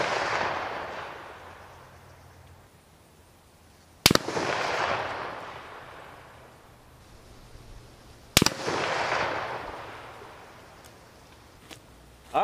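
Two sharp rifle shots from a 1918 BSA SHT LE No1 Mk3 ring out about four seconds apart at a range with targets at 100 yards, each followed by a rolling echo and decay, with faint background hum between them.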